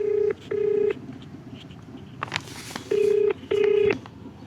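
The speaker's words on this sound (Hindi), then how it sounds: "एसएसपी रांची को हम फ़ोन लगा रहे हैं" Telephone dialing tones as an officer's number is called: four clear, steady DTMF beeps in two pairs with short gaps, a brief click and burst of noise between them, no speech.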